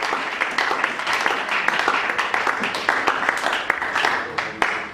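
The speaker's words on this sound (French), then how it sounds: "Nous acclamons très très bien" A church congregation at a closing service applauds steadily, dense sustained clapping with scattered louder claps and some voices mixed in throughout.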